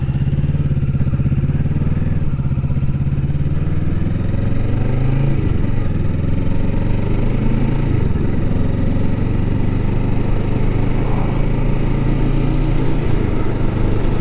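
A street motorcycle ridden on town roads, its engine droning loudly and continuously up close with pitch rising and falling through gear changes and throttle shifts, no talking heard.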